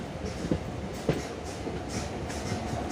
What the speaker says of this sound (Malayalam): train Ochira station വിട്ടിരിക്കുന്നു